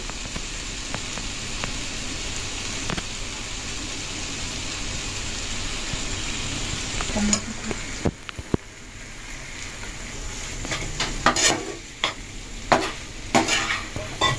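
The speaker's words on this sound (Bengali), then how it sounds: "এবার এটাকে ভালো করে মিশিয়ে নিতে হবে।" Tomato, soy and chilli sauces are stirred into a vegetarian Mughlai paratha filling in a hot pan: a continuous sizzle under the scraping of a spoon, then sharper clatter and scrapes in the later seconds.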